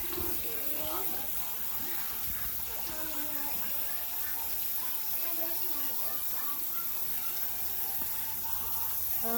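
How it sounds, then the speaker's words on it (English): Cooking water from boiled chicken is poured out of a pot into a kitchen sink, a steady broadband splashing gush running throughout, with faint voices underneath. "So I'm dumping the chicken's water out."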